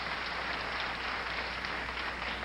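Steady, dense applause from a crowd at a PBA bowling challenge, continuous and even throughout the short stretch.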